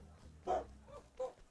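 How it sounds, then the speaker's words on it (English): Loud dog barks inside a video game, two sharp bursts spaced about seven tenths of a second apart over a low murmuring background. "Why the dog goes barking so loud?"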